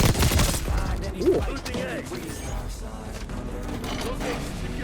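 Dense, sustained submachine-gun fire in Call of Duty: Black Ops 6 sounds as rapid bursts of shots. The bursts are loudest at the start and continue steadily at a moderately loud level.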